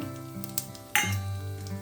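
Whole garam masala spices—cumin, cardamom, cinnamon and cloves—hit leftover fish-frying oil with a sudden loud sizzle that settles into a steady crackle, preceded by a faint clink.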